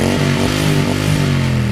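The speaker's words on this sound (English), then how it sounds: "you've got beautiful exhaust, and it sounds just like this" A Harley-Davidson Iron 883 cruiser motorcycle idles loud and close, its exhaust giving a deep, lumpy burble with a couple of brief throttle blips.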